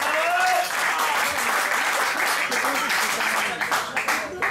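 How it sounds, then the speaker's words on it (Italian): A room full of people at a volleyball press conference applauds loudly and steadily for a player, the dense clapping filling the whole stretch and thinning slightly toward the end. "Un grosso applauso per Carlotta Caruso"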